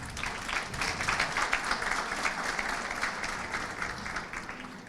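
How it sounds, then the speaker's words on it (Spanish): A conference audience at a national accreditation congress welcomes a speaker with sustained applause, many hands clapping in a steady, moderately loud wash across the hall. "Lo recibimos con fuertes aplausos"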